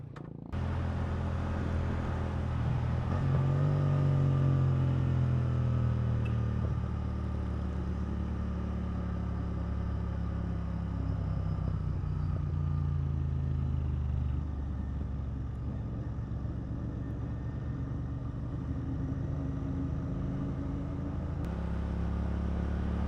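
A motorcycle engine hums steadily while cruising along a road on the North Cebu loop, a continuous low drone with a gear change early on and wind rushing throughout, no voices.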